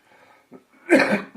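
A short, harsh cough bursts out close by after a few faint breathy sounds, followed by the start of another.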